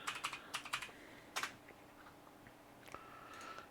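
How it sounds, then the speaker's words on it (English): Loud clacking keystrokes on a very noisy computer keyboard, quick clustered bursts of taps early on, a brief flurry mid-way, then a few scattered presses near the end, close and crisp with quiet gaps between. "I use my extremely loud keyboard again"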